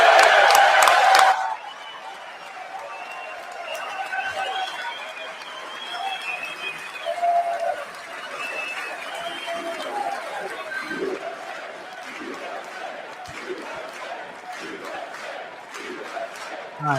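A crowd at a State of the Union address, a burst of loud clapping at the start giving way to sustained murmuring, chatter and scattered cheering from a large room, with some distant voices mixed in.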